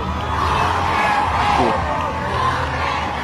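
A large crowd at a packed gathering of over 60 million people shouts and cheers in a dense, continuous roar, loud and steady from a distance, with indistinct voices blended into the babble.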